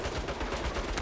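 Automated turrets in the Saints Row reboot letting loose a dense rattle of rapid gunfire, a continuous burst heard loudly and alone for about a second.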